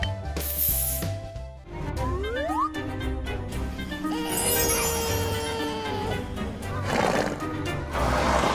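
A toy horse from a children's toy adventure whinnies in clear, cartoonish neighs over a busy bed of music and effects, with a clip-clop rhythm running underneath.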